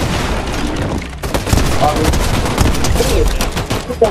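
Video game gunfire blasting enemies: dense, rapid bursts of shots and booms, loud and continuous, dipping briefly before resuming heavier fire.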